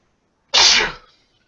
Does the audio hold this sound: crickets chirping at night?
no